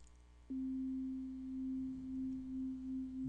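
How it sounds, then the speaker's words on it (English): A steady low pure binaural beat tone starts abruptly and holds, gently pulsing in loudness, with faint hiss beneath. "So now all we have is a straight binaural beat."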